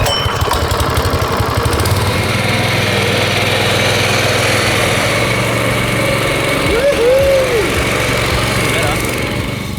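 A Protea lawn mower engine with a grooming reel runs steadily and loud close by over bent grass, a constant droning hum throughout, with a short voice partway through.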